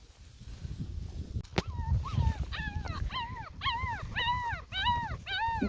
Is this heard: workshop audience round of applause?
no